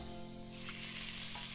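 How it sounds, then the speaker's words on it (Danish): Meat sizzles and fries in hot oil in a pan while a Thai Pad See Ew is cooked, a constant, dense hiss with no talk over it. "Steg først kødet i olie på en pande, til det er gennemstegt."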